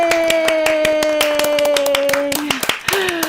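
Applause from online viewers played back during a live singing session, a dense run of claps heard close, under a sustained sung or voiced tone that slides down near the end.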